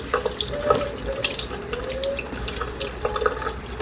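Tap water runs steadily into a kitchen sink while salted pork fatback is rinsed under the stream, a continuous close splashing rush with faint drips and no talking.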